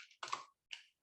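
Quiet computer keyboard typing, a couple of short bursts of soft clicking keystrokes separated by brief silence, close by and alone.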